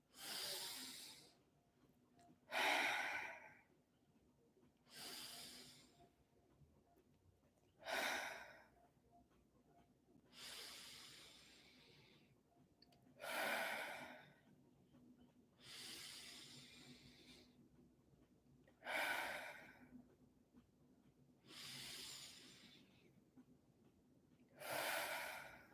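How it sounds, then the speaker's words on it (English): Slow deep breaths drawn in through the nose and then exhaled, about nine even cycles, each a soft close airy rush separated by quiet pauses. "I breathe through my nose and fill up my stomach and my chest. It's kind of like, it turns like a wave, and then I exhale."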